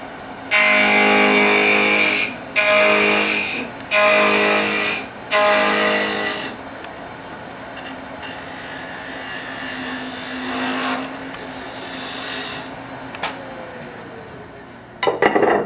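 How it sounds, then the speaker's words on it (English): A skew chisel makes a peeling cut on a spinning workpiece on a wood lathe, giving four loud, bright rasping bursts in quick succession, followed by a quieter, steady hiss of the lathe turning and a few faint taps. "That was a peeling cut with a skew"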